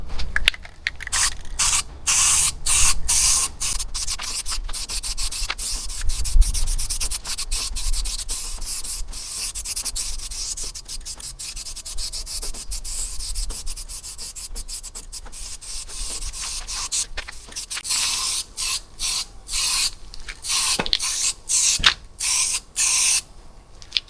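Aerosol spray can putting a light dust coat of paint on a Holden HZ radiator support panel, with short repeated hissing bursts separated by pauses and some rubbing and scraping in between.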